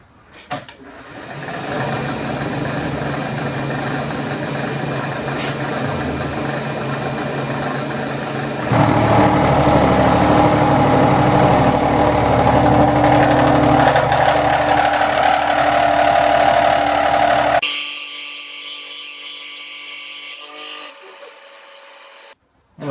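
A milling machine cutting a steel 40-position tool post holder with an end mill, a steady loud mechanical drone that grows heavier midway, then stops, leaving near silence.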